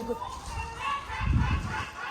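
A goose-like honking bird calls near a beach in Barcelona, a few faint nasal honks rising over quiet background noise.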